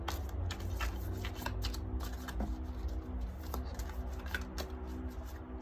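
Tea leaf oracle cards are shuffled continuously by hand, a soft, rapid papery flutter and riffle with small taps, close and fairly quiet over a low background hum.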